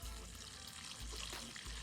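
Rainwater is poured onto sweet potato slip roots, a faint, short splashing trickle of water close by, with no speech over it.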